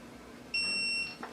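A single short, high electronic beep from a torque wrench sounds once, clear and close, over a quiet background hum.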